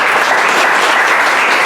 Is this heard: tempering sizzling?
no